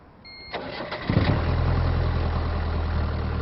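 A hotwired car engine cranks briefly, catches and roars to life, then settles into a steady, close idle.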